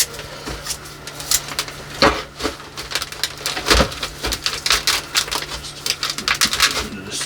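Old scissors snip through a climbing hydrangea bonsai's root ball, stones and all, a quick run of crunchy clicks and cuts close up.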